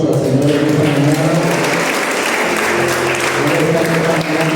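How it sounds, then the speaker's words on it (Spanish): A church congregation gives the Lord a loud, sustained round of applause at a morning service, steady dense clapping running the whole time with sustained musical tones and voices beneath it. "¿Cuántos le pueden dar un fuerte aplauso al Señor en esta mañana?"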